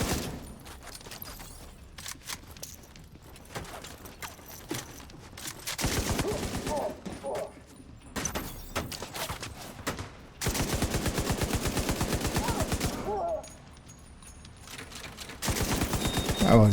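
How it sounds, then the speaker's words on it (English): Video game gunfire: long, loud stretches of rapid automatic fire and crackling shots, broken by quieter gaps with faint background game noise. "I should catch where those shots were coming from"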